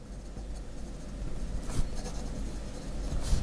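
A Waterman Carené fountain pen's medium nib scratches across paper in short strokes, soft and close, with quiet pauses between the scribbles and no talking.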